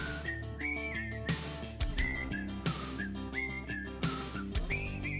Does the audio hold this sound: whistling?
yes